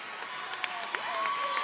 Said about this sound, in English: Nice round of applause for Claire DeBoover as she comes out of the game